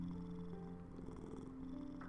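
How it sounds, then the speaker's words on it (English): A cat purrs steadily on a lap, a soft, close, continuous rumble that carries through the whole moment, faint and alone without talking. "I now have a purring cat on my lap."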